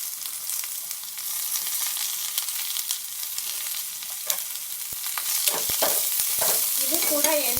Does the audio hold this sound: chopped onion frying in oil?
yes